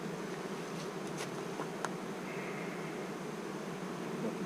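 Honey bees buzzing around a hive while robbing is underway after an inspection, a faint steady hum outdoors with a few brief closer passes of individual insects.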